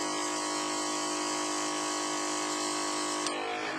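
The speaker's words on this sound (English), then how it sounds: "now I'm going to airbrush the cookie" An airbrush hisses continuously while spraying colour through a stencil onto a decorated cookie, a bright steady whine that cuts off abruptly near the end.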